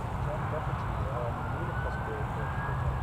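An airliner taxis toward the runway at Newcastle Airport, heard as a steady, distant engine roar with a faint rising whine, continuous and unbroken throughout.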